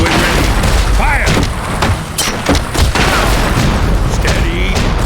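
Cannons fire in a video game battle, a dense run of loud booms and thuds over a constant roar of battle noise, with voices calling out over it.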